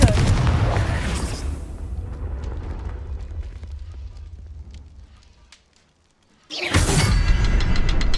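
Confringo fire spell blast in the Hogwarts Legacy video game, a loud fiery burst and roar that fades out into silence, then a second bright burst of sound at the end.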